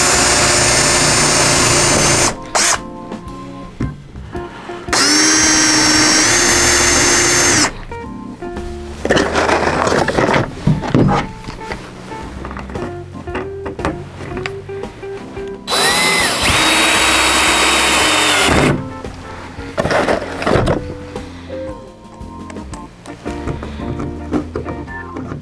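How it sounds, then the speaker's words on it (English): Power drill countersinking screw holes in the top of a wooden model railroad layout table, heard as loud, steady whines in bursts of a few seconds each, separated by quieter mechanical handling noise. "with the holes drilled, we're now going to go ahead and countersink"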